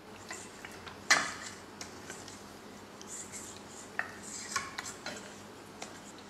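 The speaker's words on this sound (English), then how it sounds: "Just give it a stir once in a while" Spoon stirring melting chocolate in a small pot, with sparse light scrapes and clinks against the metal, one sharper knock early on, quiet and close with no talking.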